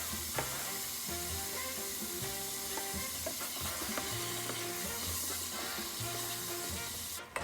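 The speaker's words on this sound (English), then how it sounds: "I'll just continue to stir it so that all sides of the roast will get browned" Pot roast browning in hot oil on high heat for caldo de res, a continuous sizzle and spatter with scrapes and clinks of stirring against the pot, close and unbroken, no talking.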